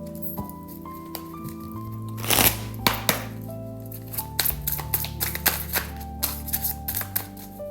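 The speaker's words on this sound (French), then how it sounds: "Hop, je remets les cartes comme il faut." Tarot cards shuffled and rearranged by hand at a table: soft papery slides, flicks and light taps in an irregular patter, close up, over a steady low musical drone with no talking.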